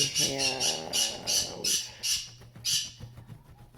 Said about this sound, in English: She's a conure, a green cheek conure cinnamon.